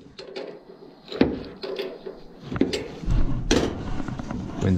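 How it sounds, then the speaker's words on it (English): A wind-blown door bangs and rattles irregularly near a neglected, plugged-up steam boiler, several hollow knocks and thumps of varying loudness over a low background rumble. "Wind is blowing the door around."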